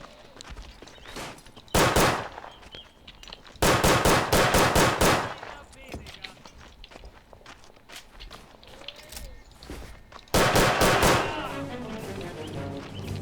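Machine gun fire in the trench-warfare video game Verdun: three loud sustained bursts of rapid automatic shots, separated by quieter stretches of distant battlefield noise, footsteps and faint scattered gunfire.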